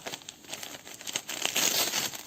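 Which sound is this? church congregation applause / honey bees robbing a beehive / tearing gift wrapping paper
tearing gift wrapping paper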